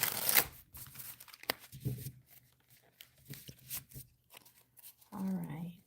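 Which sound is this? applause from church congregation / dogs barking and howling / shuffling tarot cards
shuffling tarot cards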